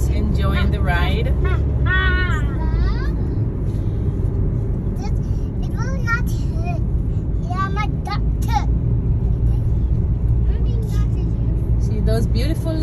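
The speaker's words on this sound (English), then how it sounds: "Kids are happy, they're making so much fun noise." Children shout and squeal in bursts aboard a moving vehicle ride on an island in Okinawa, with a constant engine rumble underneath and an adult voice talking at times.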